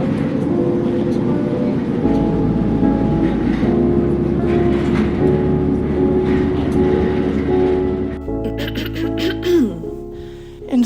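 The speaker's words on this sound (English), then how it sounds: "Will and I boarded the train from Berlin to Paris" A passenger train running from Berlin to Paris rumbles and hums continuously from inside the carriage, a steady low drone with faint rail clatter, easing off near the end with some brief sharper noises.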